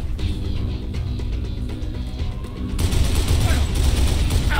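Machine gun fire in the Dead Island Definitive Edition video game, a dense rattling stream of shots that grows louder and heavier partway through, mixed with game effects.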